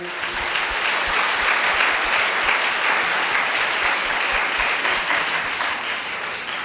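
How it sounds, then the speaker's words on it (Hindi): A worship congregation claps loudly and continuously in praise of Jesus, a thick, sustained wash of hand claps at an even level throughout. "प्रभु यीशु के लिए जोरदार ताली बजाइए।"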